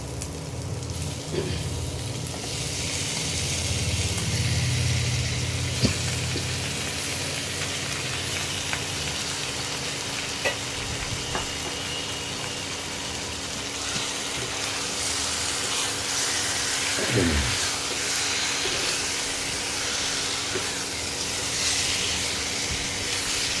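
One kilogram of chicken meat sizzles and hisses steadily in a hot pan for a restaurant-style chicken chakuri, a continuous frying crackle with occasional clinks and scrapes, no one speaking.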